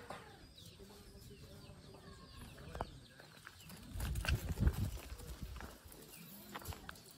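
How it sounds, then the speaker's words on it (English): Chickens cluck among free-roaming farm animals, including piglets, at a rural campsite, with scattered calls over a busy outdoor background and a louder low-pitched burst of activity midway. "Chickens, like always."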